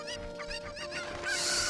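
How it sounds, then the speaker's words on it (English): Chickens in Ocarina of Time HD give a quick run of rhythmic clucks, several overlapping, ending in a brighter, louder squawk over a steady game hum. "Thank you for finding my chickens."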